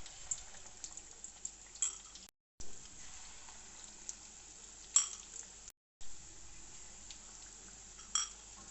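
Egg pakoras frying in oil in a kadhai, a faint steady sizzle broken by occasional soft taps and scrapes of a utensil, quiet and without speech.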